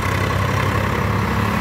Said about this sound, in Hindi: तो दोस्तों ट्रैक्टर चल चुका हमारा, पहले गियर में भाई बिल्कुल बढ़िया चल रहा